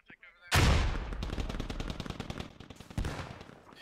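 A loud burst of automatic gunfire in the military shooter Squad, a sharp opening blast followed by a rapid rattle of shots that thins out, with another crack near the end.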